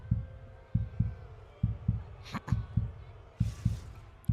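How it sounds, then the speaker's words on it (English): A looping heartbeat sound effect plays during a penalty shot in an NHL hockey video game, steady low double thumps repeating about every half second, with brief game noises and faint crowd sound layered over it. "The heartbeat going."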